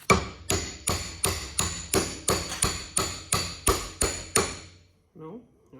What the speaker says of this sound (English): we'll get a hammer and do a little